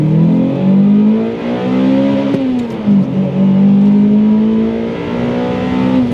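Toyota Celica 2ZZ engine revving hard toward 8,000 RPM, a loud sustained high-pitched wail that holds and rises slightly, with a brief blip midway, close and alone.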